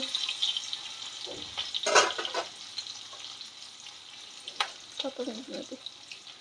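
Garlic cloves and whole spices fry in hot oil for butter paneer, soft crackling sizzle with a few sharp pops and bursts of stirring, quiet and close, with brief voice in between.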